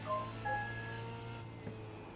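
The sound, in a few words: phone message notification sounds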